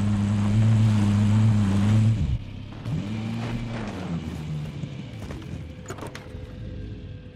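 Vehicle engine in a video game: a loud, steady drone that drops off sharply, then rises and falls again more quietly, followed by scattered clicks and knocks.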